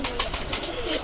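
A flock of domestic pigeons coos in soft overlapping bursts at close range, with several low throaty calls running together over a light background hiss.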